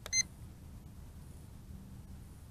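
A quadcopter's handheld controller gives a short electronic beep at the start, then stays near silent during gyro calibration.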